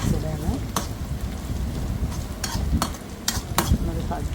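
Mustard seeds, curry leaves, shallots and dried chili tempering in hot oil for a Thiruvananthapuram-style potato koottu curry, giving steady close sizzling and stirring with a few sharp crackles and pops.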